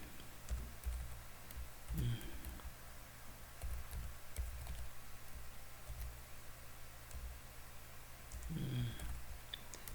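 Computer keyboard typing, a faint scatter of light key clicks over low background hiss, with a few slightly heavier taps in short clusters.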